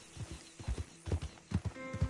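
Horse hooves clip-clop in a steady, rhythmic gallop in Red Dead Redemption 2, moderately close and fairly quiet, with a faint whinny-like tone near the end.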